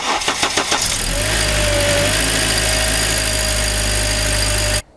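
A car engine with a bottle of Amsoil engine flush added cranks for about a second, catches, and settles into a loud, steady idle before cutting off abruptly.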